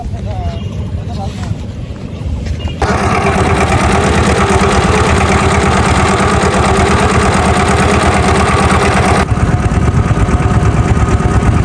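A loud motorboat engine drones steadily and close as the boat crosses a river, its rattling hum continuous throughout, with people talking faintly beneath it.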